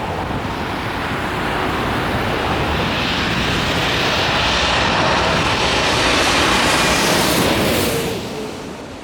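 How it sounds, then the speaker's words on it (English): All Nippon Airways Boeing 787-8 jet engines roaring from about 250 meters behind, a loud, steady broadband rush that swells toward the middle and eases off near the end, mixed with wind. "We have ourselves a 787-8 coming up from All Nippon Airways."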